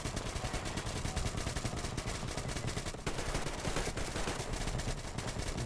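Gunfire from the video game Metro Exodus: dense, loud, sustained rapid shots firing continuously with almost no gaps, close and harsh, with no talk over it.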